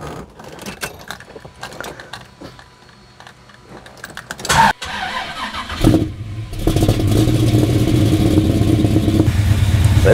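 Car fitted with an HEI distributor: quiet clicks and mechanical rattling, then the engine cranks and catches around the middle and settles into a loud, steady running rumble that swells as it revs, with no talk.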